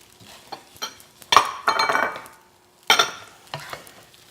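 Food sizzles and crackles in a hot wok while a utensil scrapes and clinks against the metal in irregular bursts, close by, in a restaurant kitchen.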